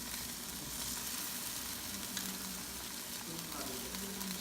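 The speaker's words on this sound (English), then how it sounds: "Now it's boiling now." Milkfish steak mixture bubbling in a pan, a steady faint sizzling and simmering hiss that continues without a break.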